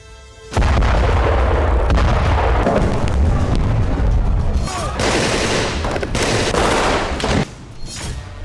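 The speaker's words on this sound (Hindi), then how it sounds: "बेरूत का विस्फोट, वर्ल्ड वॉर 3 का उद्घोष," Loud explosion and artillery fire effect: a sudden heavy boom opens into rolling blasts and crackling bursts of fire, with further sharp detonations near the end.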